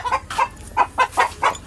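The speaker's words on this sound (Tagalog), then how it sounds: "Putak itong mga manok ito." A few short clucks from chickens nearby, coming in a loose rhythm with brief quiet gaps between them, with nobody talking.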